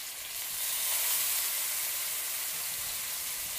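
Pieces of fish dropped into hot oil for an Andhra-style fish fry, giving a steady, loud broadband sizzle and crackle that holds evenly for a few seconds with no talking.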